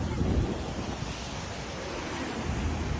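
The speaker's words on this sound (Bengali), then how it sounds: "সমুদ্রের গর্জন শুনতে পাচ্ছেন।" Ocean waves roaring onto the shore at Colombo, Sri Lanka, a broad continuous rushing surge mixed with gusty wind buffeting the microphone, steady and fairly loud, with no clear speech.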